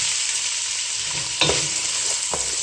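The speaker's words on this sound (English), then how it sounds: "Let's fry for a bit. Go in with my onion now." Onion frying in a pan for coconut rice, a steady close sizzle with a couple of stirring scrapes.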